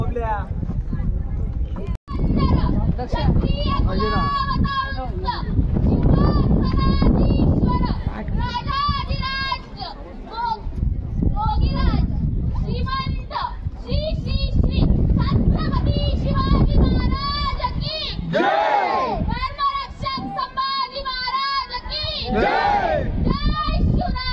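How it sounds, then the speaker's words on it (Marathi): A large Sunday crowd of visitors at Raigad fort, a busy hubbub of many voices, children calling and chatter close by, with someone talking over the noise throughout. "आज संडे असल्यामुळे तुफान गर्दी इथं."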